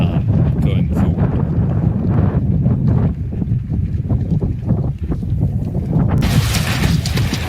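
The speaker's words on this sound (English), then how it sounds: "It's super windy on the outside" Strong wind buffets the microphone outside a 16' x 38' DIY greenhouse, a continuous loud low rumble and roar with gusty swells throughout.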